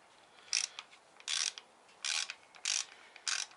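An Allen key ratchets in five short, even bursts with brief pauses, loosening clutch cover bolts on a Harley-Davidson Sportster Roadster; close and clear with no talking.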